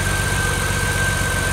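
BMW E36 M3 drift car with an S52 engine on a cold start, idling with a steady, loud, rumbling drone and a constant high whine, close up with no talk.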